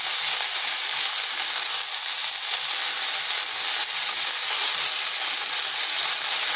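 Chopped cabbage frying over high heat in a pan, a steady loud sizzle and hiss that runs unbroken throughout.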